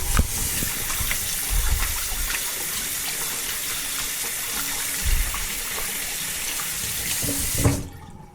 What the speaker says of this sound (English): Turn the water on, put the soap on your hands.